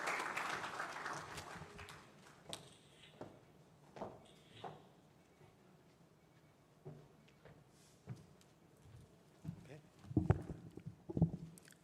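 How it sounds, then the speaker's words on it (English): Conference audience applause at an industry event, loud at first and then fading into scattered thumps and handling noises, with someone speaking over the room afterward. "give him a round of applause as Archie comes to take us through this section"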